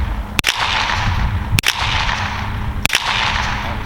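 Suppressed supersonic .22LR rounds fire in sharp, evenly spaced cracks, three clear reports roughly a second apart over a loud, rushing outdoor background, with no one speaking.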